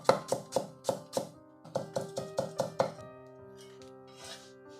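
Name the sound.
knife chopping ginger into thin shreds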